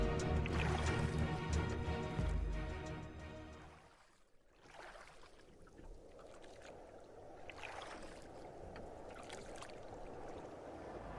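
Oars dipping and splashing as a boat is rowed on a Sundarbans river, a cartoon effect heard as steady watery churning and dripping that fades midway and then continues softly, with no voices.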